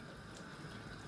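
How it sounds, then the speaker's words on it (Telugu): Water boiling in a cooking pot during preparation of a Rayalaseema-style bombay duck, brinjal and tomato curry, a steady close bubbling and hissing wash filling the short stretch without any talk. "చూడండి ఉడుకుతున్నాయి నీళ్ళు కూడా"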